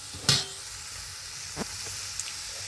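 Red amaranth greens frying with a little salt over a wood-fired kitchen stove, a soft steady sizzle with a sharp clatter near the start and a couple of faint knocks later, no talking.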